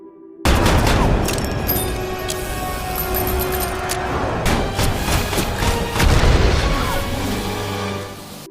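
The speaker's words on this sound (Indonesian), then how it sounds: "Beruntung Roland datang dan menembak monster itu" Gunshots in a Dark Tower film scene as Roland shoots a monster, loud booming shots and heavy impacts over a dramatic, busy soundtrack.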